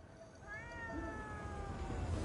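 A black cat in Ghostwire Tokyo gives one drawn-out, rising-then-falling meow. The call is moderately loud and clear over a low, steady game background.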